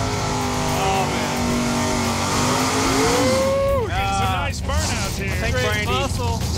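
A drag car's engine roars loudly and steadily while tires spin, with people talking and shouting nearby near the end.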